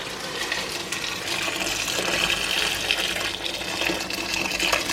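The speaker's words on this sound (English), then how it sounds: "I'm going to just pour it on the seasoning right quick." Liquid is poured onto seasoning in a pot while making oxtail curry, a soft continuous splashing wash at low level with no talk.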